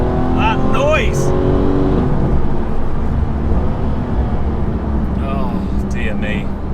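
McLaren 600LT engine roaring loudly from inside the car, a continuous dense drone with rising and falling whistling tones as revs change, with a voice talking over it.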